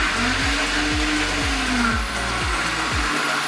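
A countertop blender whirs steadily while blending fruit with apple juice, its motor tone rising then holding, with a series of rhythmic thumps as the contents churn, loud and close with no talking.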